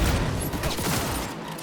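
Rapid gunfire from a thermal-damage gun in Cyberpunk 2077, a loud, dense burst of shots blurring into one continuous barrage for under two seconds, with no voices.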